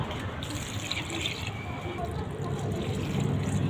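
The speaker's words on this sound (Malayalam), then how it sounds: "ഒരു 2 കപ്പ് വെള്ളം ഒഴിച്ച് കൊടുക്കാം." About two cups of water pour into a pot of beef curry, a steady close splashing gush running the whole time, with a voice speaking over it.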